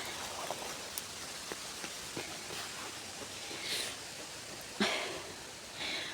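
Rain falls steadily outdoors in cold weather, a soft continuous hiss broken by scattered individual drips and a few louder drops tapping nearby.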